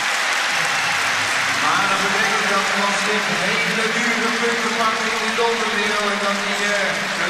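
A crowd at a UCI Track Cycling World Championships elimination race roars and applauds at the finish, a loud, steady wash of cheering and clapping, with a commentator talking over it.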